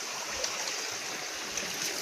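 A waterfall stream flowing through a forest gives a steady, close rushing hiss of water that fills the whole moment with no voices.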